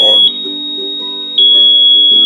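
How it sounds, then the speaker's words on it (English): An Altair-series gas detector aboard a shuttle tanker gives a steady high electronic beep on switching on, holding for about a second, then a brief second tone that continues, with low background hum and faint speech. "it kind of gives a beep"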